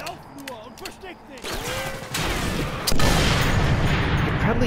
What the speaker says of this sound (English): You're probably hearing a really big sound, the rifle going off, not automatic fire.